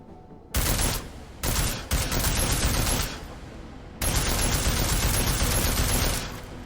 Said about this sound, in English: I'm shooting all the targets.